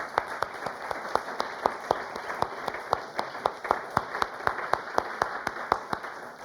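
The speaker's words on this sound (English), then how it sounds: "a round of applause for Alex Frank Thomaser" Audience applause at a book presentation at the Austrian Cultural Forum in New York, sparse individual claps in a steady, fairly even rhythm, distinct and moderately close, continuing for several seconds without talk.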